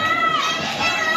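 A dense crowd of fans screams and shouts at a film premiere red carpet for Rosario, a loud continuous wall of high-pitched cheering close by.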